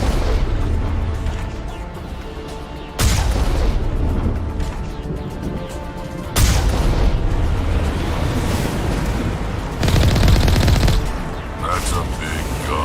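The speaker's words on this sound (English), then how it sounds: "There's the artillery, Shepard." Heavy artillery in Mass Effect fires in a sustained, booming barrage, with three loud bursts breaking over continuous rumbling gunfire, close and dense.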